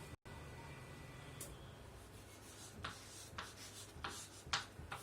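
Chalk or marker strokes scraping across a board as a geometry line segment is written, faint scratchy rubs spaced over a steady low room hum, with no one speaking.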